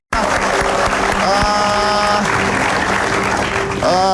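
A studio audience on an Indonesian television talk show applauds in a loud, continuous roar of clapping, while a voice and musical tones sound over the top.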